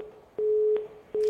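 Steady electronic phone line tone after a dropped call on a radio phone-in, sounding in three evenly spaced beeps with short gaps between them, with no voices.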